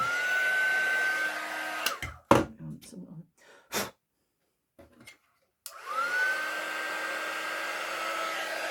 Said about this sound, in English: make a point of then using your heat gun